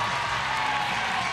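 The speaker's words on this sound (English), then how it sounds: "You can hear the crowd in the background rooting for this home team" Home crowd of Cornhusker fans cheering and clapping at the Big Ten men's gymnastics championships, a dense, steady roar filling the arena for a brief moment.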